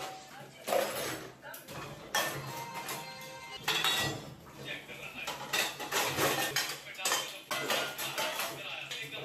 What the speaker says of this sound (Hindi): उसके बाद ढेर सारे बर्तन, इनको सोप लगा के उसके बाद सबसे लास्ट में एक ही साथ में इनको वॉश करती हूँ।